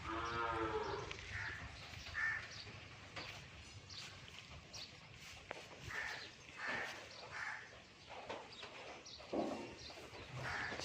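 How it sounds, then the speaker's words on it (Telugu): Cows and calves at the ISKCON goshala in Anantapuramu give low moos amid farmyard murmur, with birds and crows calling and faint voices in the background. "చిన్న ఆవులు మీరు చూడొచ్చు ఎంత బాగున్నాయో ముద్దుగా."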